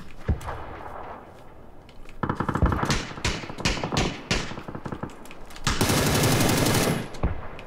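Bursts of automatic gunfire in a Mad Max video game, close and loud, firing in repeated rapid volleys with short pauses between them.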